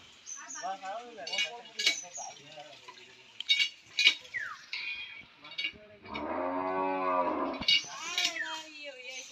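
On a cattle farm with around fifty cows, a long, low, drawn-out moo rises midway, surrounded by scattered short chirping and clinking sounds at moderate distance.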